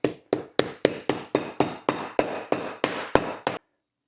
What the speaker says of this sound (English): We'll just go ahead and keep pounding them.